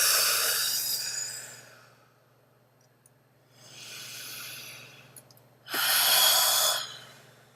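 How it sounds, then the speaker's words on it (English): A group at a Kol Nidre service breathes slowly and deeply together, three long airy breaths rising and fading with quiet pauses between them, the last one loudest, and a low steady hum underneath. "And let's just take 3 more breaths together, breathing in."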